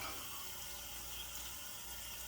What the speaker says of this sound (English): I'm gonna put some water.